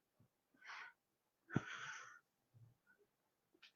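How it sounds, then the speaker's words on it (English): Two soft, raspy breaths with a wheezing snore quality, quiet and close, followed by faint snuffling. "One of my dogs is snoring."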